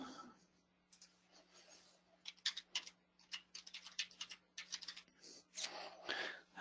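Typing on a computer keyboard: bursts of quick key clicks with short pauses between them, fairly close and quiet over a steady low hum.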